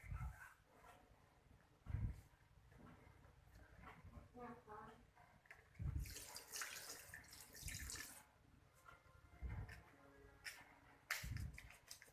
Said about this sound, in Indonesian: kita mencuci tangan menggunakan air menggunakan sabun di bawah air mengalir